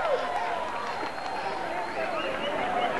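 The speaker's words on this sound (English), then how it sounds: "And the crowd's applauding." Crowd applauding and cheering outdoors while watching the May 30, 1984 annular solar eclipse in Greenville, South Carolina, a steady diffuse wash of clapping and crowd voices throughout at moderate distance.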